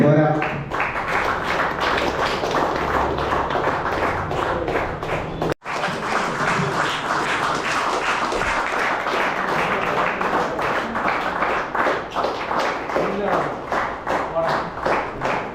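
Loud sustained applause from an audience at a Kochi event fills the whole stretch, with a momentary cut partway through, the clapping continuing dense and steady afterward and settling into distinct rhythmic claps.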